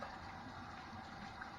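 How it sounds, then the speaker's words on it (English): Hot tap water runs steadily onto a hand being rinsed, a continuous faint splashing gush with no pauses and no talking. "Right now, I'm gonna get a little rinsey hot water going on this hand here."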